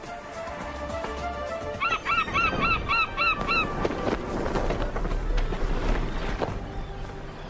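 A gull chasing an osprey over the water gives a quick run of about eight harsh, honking calls in the middle of the stretch, set against a steady, noisy outdoor background.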